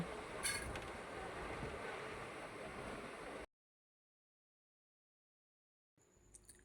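Passenger train running along the tracks on the journey from Sodepur toward New Jalpaiguri, a loud steady rushing rumble with wind noise that cuts out abruptly, then returns faintly near the end.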